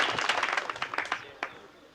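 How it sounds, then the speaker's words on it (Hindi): Schoolchildren in a classroom clapping loudly together, a dense burst of close rapid claps that thins out and fades over two seconds. "जोरदार तालियां बजाओ बेटा।"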